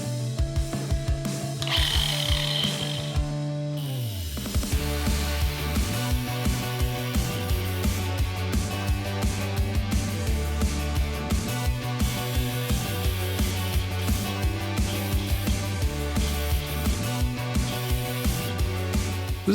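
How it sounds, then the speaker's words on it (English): A close, loud angle grinder fitted with a masonry disc works on rock, its motor starting up and then whining steadily with rhythmic pulses as the disc bites in and out. "I'm using an angle grinder with a masonry disc, and it's actually working really well"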